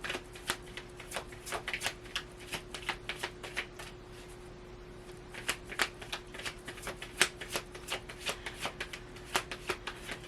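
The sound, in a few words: shuffling tarot cards for clarifiers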